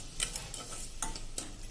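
A spoon stirs cream and milk in a pressure-cooker pan while ghee is made at home, giving soft rhythmic scraping swishes about once every half second with faint clinks, close and fairly quiet.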